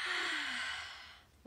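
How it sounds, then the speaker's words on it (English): One long, deep breath drawn in by a person leading a children's circle time, close and airy, tapering off over about a second. "Take a big breath."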